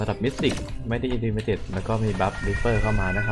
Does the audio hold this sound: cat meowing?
yes